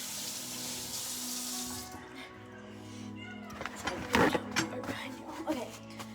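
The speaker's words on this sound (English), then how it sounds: "So now wash your fingers." Tap water runs in a steady hiss for about two seconds, then breaks into splashing as fingers are washed under it, with a cat meowing and someone talking.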